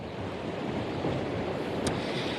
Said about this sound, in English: as you can tell, it's extremely windy.